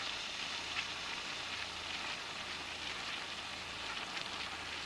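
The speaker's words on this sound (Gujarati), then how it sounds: "આપણે તેલમાં ફ્રાય થવા દઈશું એક થી દોઢ મિનિટ માટે આપણે મગફળીને તેલમાં ચડવા દેવાની" Peanuts fry in oil for sabudana khichdi, making a soft, steady crackling sizzle like light rain that stays faint and even throughout.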